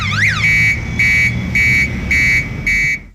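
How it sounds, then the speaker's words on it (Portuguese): A loud electronic flood warning alarm sounds alone, opening with a quick warbling sweep and then settling into a series of steady, evenly spaced high-pitched beeps. "Ao chegar nesse nível, os alarmes disparam."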